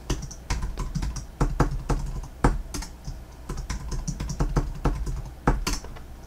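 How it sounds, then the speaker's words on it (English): Rapid, uneven clatter of keys as a root password is typed on a computer keyboard while setting up a Le Potato single-board computer; close, crisp clicks with short pauses and no talking. "So I'm going to type in my root password."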